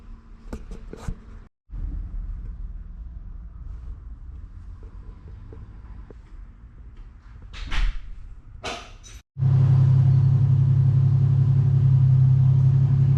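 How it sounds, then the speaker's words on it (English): A Nissan Z engine idles outdoors while warming up, a steady low rumble that grows markedly louder and denser in the last few seconds, after quieter clunks and shuffling sounds earlier; no one speaks. "my Z is out there warming up"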